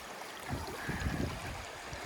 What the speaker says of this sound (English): Now, I can hear the creek.